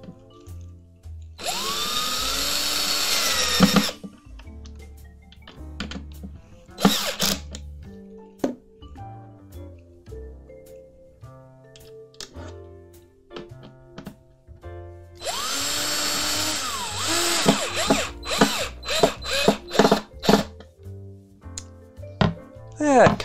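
A power drill drives screws into a server shelf during assembly, with two long whirring bursts separated by a stretch of short clicks, taps and handling noises, and a voice talking at times.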